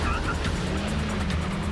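Cars racing in a two-lap circuit contest of handling and performance, both with 0 to 62 mph times of 5.8 seconds; a steady, close engine drone holds throughout without any clear pass-by.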